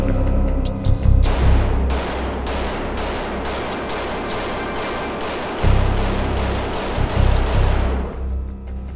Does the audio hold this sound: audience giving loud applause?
no